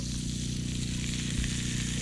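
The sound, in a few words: vegetables sizzling in butter in cast iron pan over campfire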